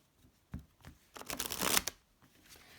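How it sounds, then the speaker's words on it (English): Tarot cards being shuffled during a psychic reading, with a soft tap, then a dense riffling burst of paper flutter that builds and cuts off, followed by a few lighter card taps, close and alone. "While I'm shuffling"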